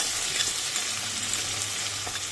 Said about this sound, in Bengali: নুন হলুদ দিয়ে মাখিয়ে একটুখানি ভেজে নিচ্ছি